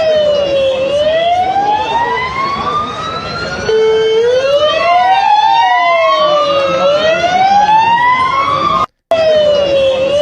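Loud wailing police sirens rise and fall continuously, several overlapping close by, with a rumbling vehicle underneath.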